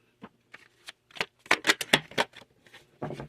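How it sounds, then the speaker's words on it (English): A deck of tarot-style reading cards is riffled and shuffled close up in several crisp bursts of flicking and slapping, loudest in the middle, with no talking. "I want to pull cards."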